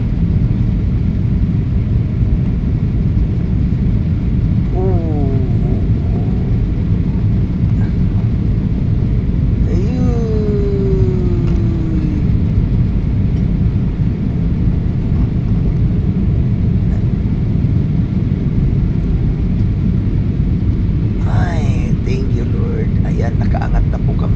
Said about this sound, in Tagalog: malapit na po kami ti-take off.